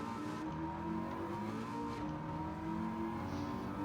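A car engine in Gran Turismo 7 drones and howls at high revs, the pitch rising and shifting like a race car pulling through gears, with no speech.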